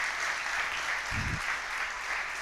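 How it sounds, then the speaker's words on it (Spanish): A church congregation applauds in a steady wash of clapping that fills the whole moment, with a brief low thump partway through. "¿Cuánto le dan un fuerte aplauso al Señor?"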